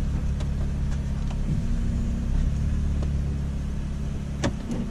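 A car engine idles steadily after starting, a low continuous hum filling the cabin with a few faint clicks over it, no talking.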